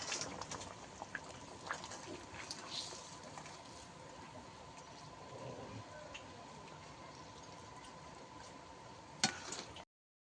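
Bhola fish curry gravy with potato and eggplant simmering in a pot: faint, continuous bubbling and soft popping, low and steady, with a small clink near the end.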